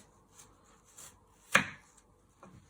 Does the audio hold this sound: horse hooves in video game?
no